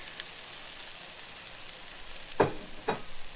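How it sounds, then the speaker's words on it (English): Beyond Meat burger patties sizzle in hot oil in a pan, a steady soft frying hiss with two brief louder crackling bursts near the end; no talking. "Nice sizzle, just like a real live burger."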